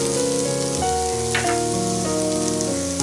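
Spicy green peas cooking in a pan, a soft steady sizzle under a loud sustained tonal hum, with a brief stirring scrape near the middle.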